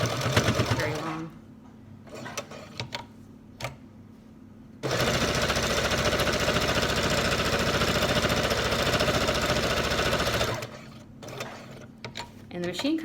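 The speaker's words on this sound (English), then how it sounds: "the machine kind of just like follows the stitch that was in there before without very much effort" A sewing machine stitches along a prefolded fabric seam in one long, steady, loud mechanical run, with quieter handling sounds and a voice before and after it.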